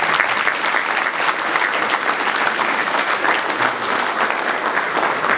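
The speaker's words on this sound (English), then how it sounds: "Please give them a round of applause for their accomplishments." Continuous, even round of applause from an audience at an engineering award presentation, honouring the recipients; dense clapping fills the whole stretch at a steady level with no voices on top.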